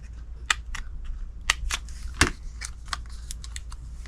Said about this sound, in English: I'm just going to cut some edges for the feet.